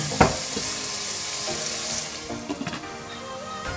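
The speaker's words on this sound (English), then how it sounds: "As you can see, everything's sizzling now." Vegetable lamb curry sizzles and fries in a pan, a steady crackling hiss with a few stirring clatters and utensil knocks near the start and end, no voices.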